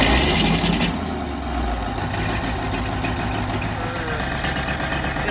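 A tractor engine idling with a steady low rumble, loud and close, running continuously after a brief louder start.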